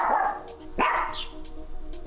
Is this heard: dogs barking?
yes